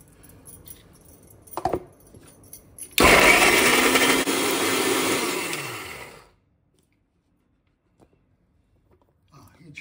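A kitchen blender purees chopped tomatoes into a paste while cooking a raw banana curry, a loud steady whirring that runs for about three seconds and then stops, with brief clatter before it and near silence after.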